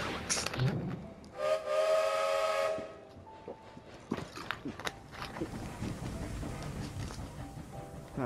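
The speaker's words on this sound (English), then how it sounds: "Like, I know this is the ghost train, so bring in the ghosts." A ghost train in the World of Final Fantasy video game sounds its whistle: one sustained, bright, tonal blast of about a second and a half early on, then scattered game sounds and rumbling afterwards.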